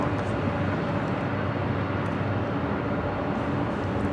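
Two airliners' jet engines roar at LAX, among them a 28-year-old Delta 767-300ER, a loud continuous broadband rumble with no breaks.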